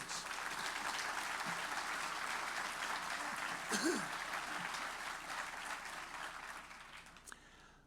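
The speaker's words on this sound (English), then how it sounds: "Let's give them all a big round of applause." Audience applause at a county State of the County address, a broad steady wash of clapping throughout that thins out toward the end, with faint voices underneath.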